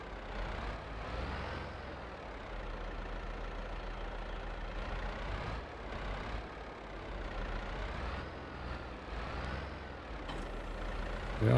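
A tractor engine idles in Farming Simulator 22, a steady low diesel rumble that rises and falls slightly in a loose rhythm, alone and close throughout.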